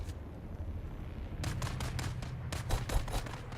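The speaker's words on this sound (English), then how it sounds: "Are they shooting at me? That guy is." Enemy gunfire crackles in a video game battle, brief sharp bursts of rapid shots coming in two clusters over a low background rumble, moderately loud.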